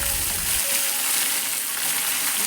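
Red chili dropped into hot oil while tempering Manipuri-style khichdi with cumin, garlic and bay leaf, giving a steady close sizzle and crackle that runs continuously, with a brief low thump at the start.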